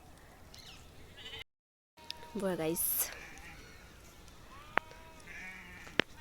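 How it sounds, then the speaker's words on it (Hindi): Sheep and goats on a Himachal hillside give a short bleat nearby, with a few sharp knocks and someone talking over the scene. "भेड़ बकरी। ये बकरी है, पीछे से एक और भेड़ आई।"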